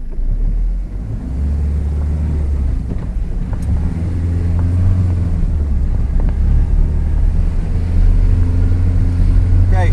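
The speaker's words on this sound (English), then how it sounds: "So let's go and drive down the hill." A vehicle rolls down a steep slope in low range gear with a retarder, a deep low engine drone under heavy wind buffeting on the microphone, loud and continuous throughout.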